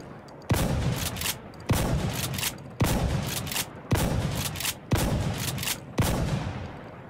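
Six heavy M870 pump shotgun blasts firing flechette rounds in the video game Insurgency Sandstorm, evenly spaced about a second apart, each a loud sharp boom with a short tail and pump action between.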